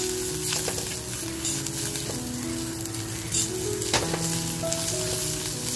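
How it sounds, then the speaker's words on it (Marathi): Coriander fries with browned coconut in a pan for a Sunday mutton thali, a dense, steady sizzle up close with occasional clunks of stirring and no voices. "ती सुद्धा आता कोथिंबीर टाकून असं मस्त फ्राय करून घेते"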